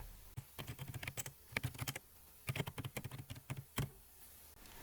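Close keys clatter on a computer keyboard as text is typed into a Microsoft Word document, in quick uneven bursts with short pauses between them.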